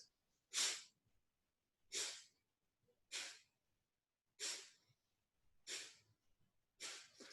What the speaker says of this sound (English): It's a forceful expulsion of air through your nose